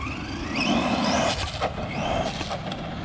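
An Arrma Gorgon RC car with an upgraded brushless motor runs down a street, its whining motor rising and falling in pitch as it speeds away and back, moderately loud and heard alone without voices.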